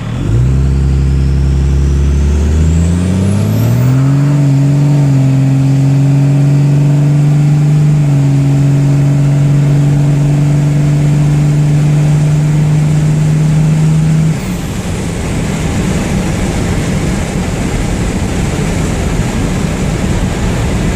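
A 24-valve Cummins diesel truck fitted with an HX35 turbo revs hard while brake-held, its engine drone climbing and holding steady under a whistling turbo, then releasing into a loud, rough acceleration.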